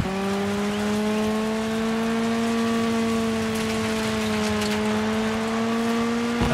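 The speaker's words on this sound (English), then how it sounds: "That was full throttle around that turn." A rally car in the racing game Dirt 5 held at full throttle, its engine a loud, steady high-revving drone with a gently rising pitch, alone without speech throughout.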